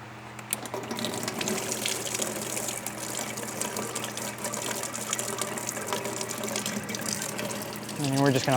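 Coolant drains steadily from a loosened hose on a 2020 Audi S5 Sportback, a continuous trickling, splashing flow that runs unbroken for several seconds at a modest level.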